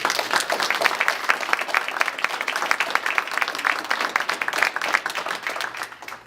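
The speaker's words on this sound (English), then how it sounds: "Please give them a round of applause" Sustained applause from an audience, many hands clapping steadily for several seconds before tapering slightly at the end.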